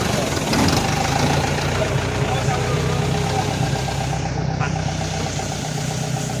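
A car's engine runs steadily during trainee driving practice, a loud, close, even hum and rumble with the accelerator pressed, holding constant throughout without pauses.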